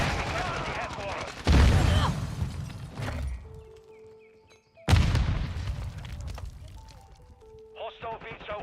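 Semtex and frag grenades explode in a Call of Duty multiplayer match, two heavy booms spaced several seconds apart amid game voice callouts and scattered gunfire.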